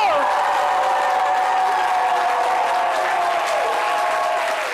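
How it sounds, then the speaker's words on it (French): A loud, dense burst of audience applause with cheering greets a professor at a midday program, sounding close and continuous, with voices mixed into the clapping. "tonnerre d'applaudissements pour le professeur Mireille Dosso"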